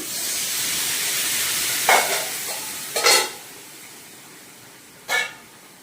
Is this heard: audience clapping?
no